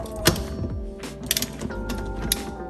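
Ratchet clicking with a 21mm socket as a car's steering wheel bolt is loosened, quick bursts of close metallic clicks with short pauses between them.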